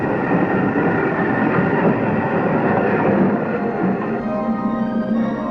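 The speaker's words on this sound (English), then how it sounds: "the boat trains from London arrive at the ocean terminal 2 hours before sailing time." Boat trains from London run into the ocean terminal for RMS Queen Elizabeth in 1959, a continuous loud rolling rumble of railway wagons with faint squeals and clatter.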